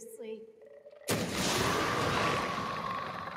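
Gunfire in Resident Evil 2 Remake, in a laboratory setting: a loud blast cuts in after a quiet stretch of faint tones and then rings out as a sustained, roaring wash of reverberant noise.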